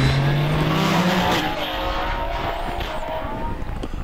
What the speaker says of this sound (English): Paul Croot in the OMS 28, running the Jaguar V6 engine